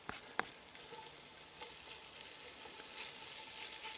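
Vegetables and ham frying in a Dutch oven with oil, a steady soft sizzle with a couple of sharp clicks of stirring near the start, fairly quiet and close.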